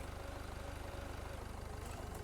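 A vehicle engine idling in the Beer Factory simulator game, a steady low rhythmic throb pulsing evenly throughout, fairly quiet with no talk over it.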